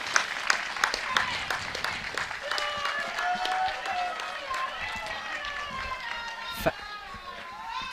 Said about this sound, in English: So big cheers for the archers